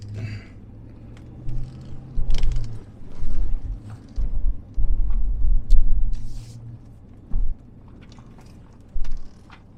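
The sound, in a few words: big truck driving over a narrow old bridge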